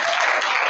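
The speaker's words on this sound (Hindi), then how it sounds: "इनके लिए एक बार तालियां बजाइए भाई" Students at a school event clapping for a classmate, a brief, dense burst of continuous applause from a nearby crowd.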